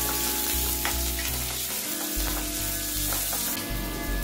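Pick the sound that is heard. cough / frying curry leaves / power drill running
frying curry leaves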